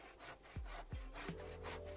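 A handsaw cuts straight and 45-degree angled cuts in wood for a workbench bench hook, with rhythmic back-and-forth rasping strokes, close and quiet, with no voices.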